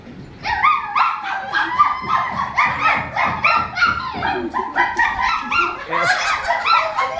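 A person imitates a dog, giving a continuous run of yapping barks and whimpers, close and fairly loud, with other voices mixed in during a playful party game of acting out tasks.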